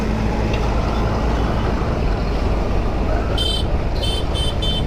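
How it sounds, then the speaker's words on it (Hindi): Heavy city road traffic with a steady roar of cars, trucks and buses passing close by, and a few short horn toots breaking through near the end. "ओह इतना ट्रैफिक है"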